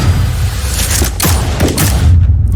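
Rapid Desert Eagle gunfire from a Modern Warfare multiplayer trailer, several loud close shots cracking in quick succession over a booming, dense game soundscape.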